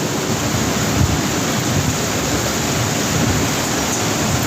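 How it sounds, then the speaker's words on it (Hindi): Loud, constant roar of strong wind and heavy rain from a storm in Gujranwala, Pakistan, with rough gusting texture in the low end and no voices. "बहुत तेज़ हवाएं हैं, बहुत तेज़ हवाएं चल रही हैं।"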